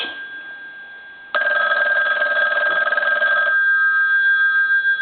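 A Western Electric rotary wall telephone bell rings steadily for a couple of seconds with a bright metallic clatter, then a sustained dial tone continues alone.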